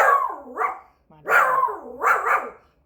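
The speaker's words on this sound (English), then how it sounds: "can you stop barking, please?" A dog barks indoors nearby, three loud, sharp barks with short gaps between them, each with a slightly whiny, yelping edge.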